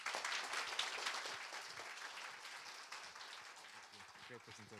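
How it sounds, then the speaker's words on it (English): Audience at a startup pitch event clapping after a presentation, a dense sustained round of applause with a voice speaking over it near the end. "One more round of applause, please."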